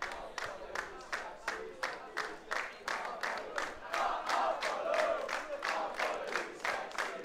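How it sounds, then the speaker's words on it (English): Rugby supporters at a Paarl Gymnasium schoolboy first-team match sing in the stands, a distant crowd chant punctuated by steady rhythmic claps roughly twice a second, faint and continuous throughout. "the crowd getting the sing-song out here at Paarl Gymnasium"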